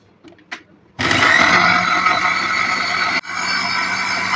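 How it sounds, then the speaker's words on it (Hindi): A mixer grinder blends mint margarita ingredients with mint, black salt and white salt. A few soft clicks come first, then a loud, steady whirring grind runs for about two seconds, stops briefly and resumes. "आपने इसको अच्छे तरीके से ग्राइंड करना है।"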